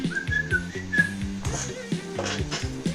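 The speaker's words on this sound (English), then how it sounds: "it's whistling, so it can be tough to tell with whistling" A melodic tune whistled by a person in the video game Date Everything, a cursed-necklace theme, plays as a steady phrase over a rhythmic low backing, clear and close.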